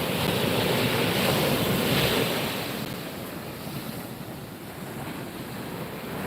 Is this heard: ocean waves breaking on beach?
yes